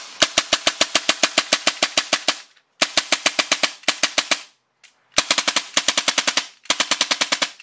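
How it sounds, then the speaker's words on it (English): A Volante Stratos 1911 airsoft gas pistol dry fires in rapid bursts of sharp, evenly spaced clacks, each run lasting a second or two with short pauses between, loud and close with no talking. "Let's just dry fire it"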